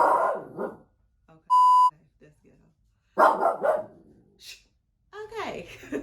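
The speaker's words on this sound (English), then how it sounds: "the mailman rolled past, and that's the reason why Oreo is going crazy" A pet dog barks in excited bursts at a mail carrier passing outside, with a short electronic beep between the outbursts and a person talking at the start.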